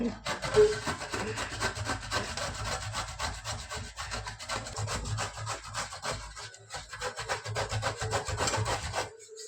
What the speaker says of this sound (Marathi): दुधी भोपळा बनवताना सगळ्यात पहिली प्रोसेस काय असेल तर याला किसून घेणे